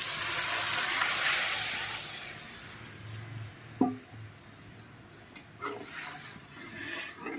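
Boiled dal poured into a sizzling tempering of asafoetida, tomato, cumin, garlic and dried chilies: a hissing sizzle fades to a soft simmer, with a few sharp utensil knocks and splashes near the end.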